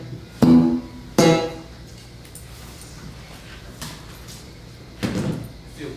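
Slap bass on an electric bass, the thumb and another finger pulling and snapping the strings: three sharp, punchy plucked notes, two close together near the start and one more after a gap, with quiet room noise between.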